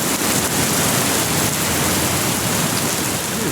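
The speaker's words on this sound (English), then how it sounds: "it's hailing outside and my car is getting pelted" Hail pelts a car outside in a dense, steady roar of hard hits that fills the whole stretch evenly without pause.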